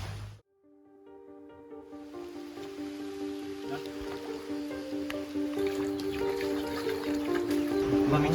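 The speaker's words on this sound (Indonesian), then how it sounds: "Hari ini kita melewati sungai menggunakan rakit menuju Kampung Rawapatat." River water flows steadily during a raft crossing on the way to Kampung Rawapatat, a continuous near rushing and gurgling wash with a faint tonal hum beneath, building slightly louder toward the end with no talk.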